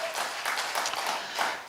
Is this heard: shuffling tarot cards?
no